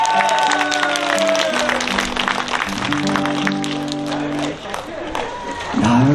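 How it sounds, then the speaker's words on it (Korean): Audience clapping fills a live trot concert at Bugok hot springs, a scattered patter heard under a speaking voice and sustained musical tones. "이렇게 박수 크게 주셔야지."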